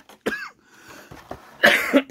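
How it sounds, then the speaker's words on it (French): Two bursts of coughing close to the microphone, a harsh cough, then a short pause and a louder double cough, with no speech. "il faut que je tousse à chaque fois"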